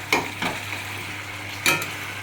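Chicken kosha with potatoes sizzling in a pot while a utensil stirs it, with steady frying hiss throughout and a few scraping stir strokes, close and moderately loud.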